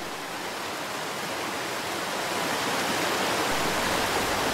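Water rushes down a pendular chute in a hydraulic engineering setting, giving a loud, steady, broadband roar like a small waterfall that holds constant and slightly swells toward the end.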